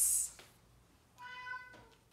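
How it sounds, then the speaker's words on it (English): A cat gives a short, clear meow in the second half, fairly close and alone, following a brief hiss or rustle at the start. "There's that therapy cat again."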